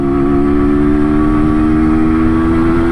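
An MZ motorcycle engine pulls under load through the gears, a loud, close, steady droning hum with strong tonal harmonics over road rumble.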